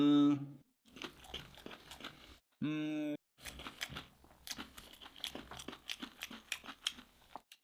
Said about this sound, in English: Listen to the crunch.